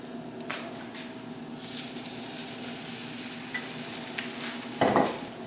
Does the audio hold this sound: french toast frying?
yes